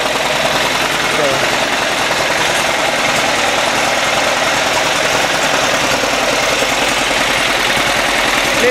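A tractor engine idles after an exhaust vibration fix, a loud steady low rumble with a fast, even chugging pulse close by, unchanging throughout with no talk over it.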